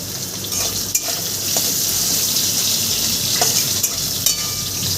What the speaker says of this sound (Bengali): মটর কলাটা আমি সুন্দর করে লাল লাল করে ভেজে নেব